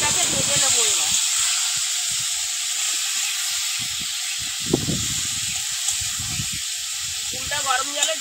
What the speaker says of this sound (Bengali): এবার কুলগুলো তেলের মধ্যে দেব। কুলটাকে ভেজে নেবো।